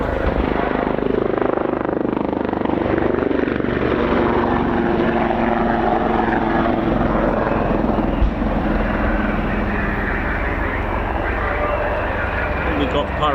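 A Wildcat helicopter flying at the Royal International Air Tattoo air show, a loud continuous rotor and engine roar filling the whole stretch, with people talking over it.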